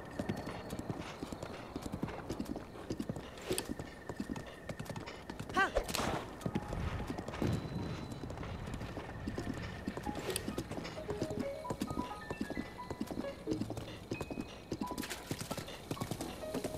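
Horse hooves clip-clop steadily while riding in Zelda Breath of the Wild, a continuous fairly quiet rhythmic patter with occasional louder thuds and faint background tones.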